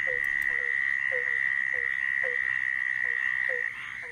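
A toad calls in short, evenly spaced croaking pulses, about two per second, over a steady high insect-like drone and faint outdoor background.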